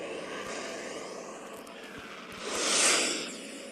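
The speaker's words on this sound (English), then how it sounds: "Starting warp engine. Commencing warp." Warp engine of a spaceship in the video game Second Galaxy, a steady airy roar that swells into a bright whooshing peak near the end, heard alone without talk.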